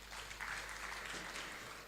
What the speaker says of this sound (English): I think LCCI deserves a round of applause for that